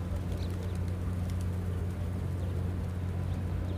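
Pigeons coo at a pigeon area near Mecca, built where an old well once stood, their low rolling calls continuous and fairly close over a steady outdoor background.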